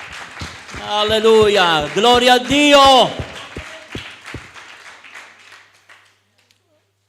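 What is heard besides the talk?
weak applause from a church congregation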